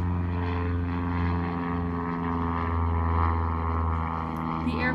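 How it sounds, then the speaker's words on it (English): Propeller aircraft droning overhead in the background, a steady low rumbling hum that holds throughout without any break, with no voices over it. "The airplanes and the pilots and all those other things that you hear in the background"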